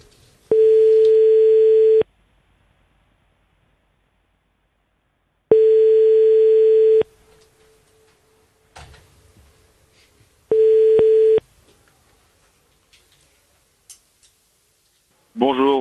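A telephone rings out while calling someone, three long, even tones separated by silent gaps, with a brief click and a voice starting at the very end.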